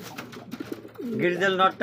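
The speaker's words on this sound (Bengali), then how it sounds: "এই যেটা হচ্ছে নর কবুতর ডাকতেছে" A male pigeon at a pigeon seller's coos nearby, its throaty rising call swelling loudly near the end after someone talks briefly.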